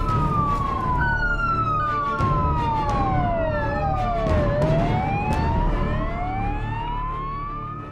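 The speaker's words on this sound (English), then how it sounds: "Sergeant Jacinda Panowitz was in the first police car to arrive on the scene" A police car siren sounds loud and close throughout as it heads to a house fire, its wailing tone sweeping steadily up and down alongside a second overlapping siren and the rumble of traffic.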